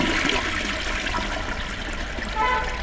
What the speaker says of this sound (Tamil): இப்போ நம்ம வந்து flush down system traditional model இருக்கு இல்லையா, அதை ஃப்ளஷ் பண்ணி பார்க்கலாம்